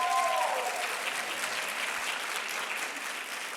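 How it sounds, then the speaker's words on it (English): Audience at a health professions convocation ceremony applauding the graduating occupational therapy class, a steady wash of many hands clapping heard from a distance, fairly soft and even throughout. "give the entire Occupational Therapy class of 2024 a big round of applause"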